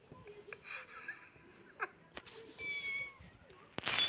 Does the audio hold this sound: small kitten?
yes